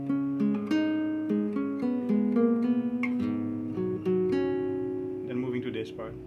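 Flamenco guitar plays a bulerías passage from a piece, a continuous run of plucked notes and bright rasgueado-like accents, up close and steady with no talking.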